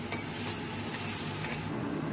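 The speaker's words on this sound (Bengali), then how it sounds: "পটলটা ভাজছিলাম" Pointed gourd fries in oil in a pan, a steady close sizzle with soft stirring scrapes, continuous for about two seconds with no talking.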